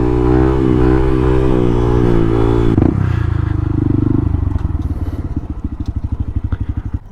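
A motorcycle revs and lurches in a parking lot, loud and close, its engine note rising and falling, then dropping into a choppy, pulsing idle with clattering bursts.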